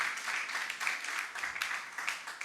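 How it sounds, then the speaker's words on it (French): An audience applauds an honoured guest at a music audition, a dense, continuous patter of many hands clapping at moderate volume for a couple of seconds. "l'applaudir pour sa présence."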